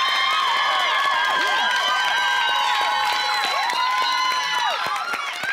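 Studio audience cheering and whooping for the cowboys team on a Wild West game show, a dense bright crowd roar with shouts and some clapping, a host's voice over it.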